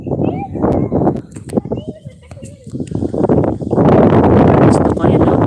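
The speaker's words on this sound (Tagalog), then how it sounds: "Ang lakas ng hangin. Grabe." Strong wind at Wadi Fanja buffets the microphone in heavy rumbling gusts while a person talks over it.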